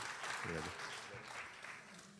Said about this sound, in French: On peut les applaudir un peu mieux que ça